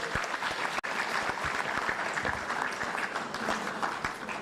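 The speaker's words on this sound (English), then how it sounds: "Another round of applause to the Minister." A renewable energy conference audience applauds the Minister in a full, even burst of many hands clapping throughout, steady and fairly close, broken only by one brief dropout near the start.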